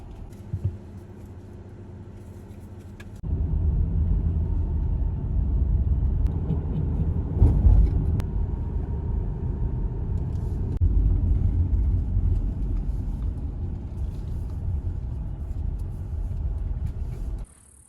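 A car climbing a scenic road toward the mountains in a national park gives a steady low engine and road rumble from inside the cabin, growing louder after a few seconds and holding evenly.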